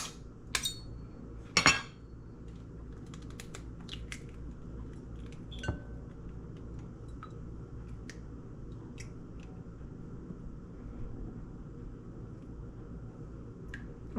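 Eggs cracked against a bowl for a lemon meringue pie filling, two sharp clean taps early on, then scattered faint clinks and a quieter knock in a quiet kitchen.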